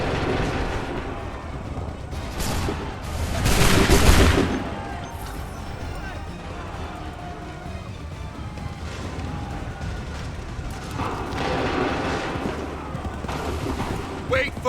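Volley of musket gunfire in the Assassin's Creed III Remastered video game, booming bursts with a loud peak then scattered shots amid battle noise, with shouted commands over it.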